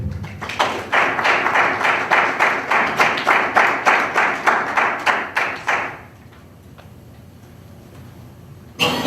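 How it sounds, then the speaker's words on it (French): A crowd at a conference launch event claps in a regular, almost rhythmic pattern for about six seconds, loud and close, then it fades to a quiet room hush. "Sous vos applaudissements, s'il vous plaît"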